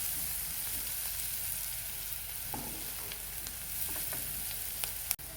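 Onion frying with turmeric in a pan for a traditional kurdai bhaji, a steady crackling sizzle throughout with a few light stirring scrapes, ending in a sharp knock near the close.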